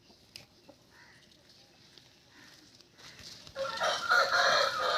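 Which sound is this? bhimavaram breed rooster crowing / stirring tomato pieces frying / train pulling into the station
bhimavaram breed rooster crowing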